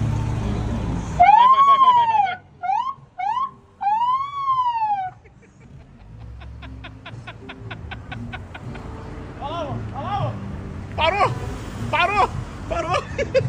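A voice imitates a police siren with rising and falling wails, broken into bursts, followed by quicker warbling siren-like calls.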